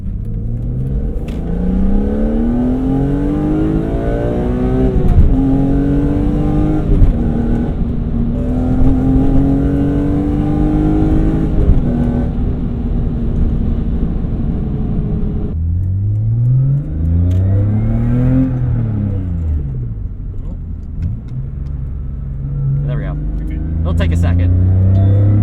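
Car engine revving hard through a carbon fiber intake, rising and falling in long sweeping pulls toward high revs, loud and close with a gravelly crunch of rocks underneath.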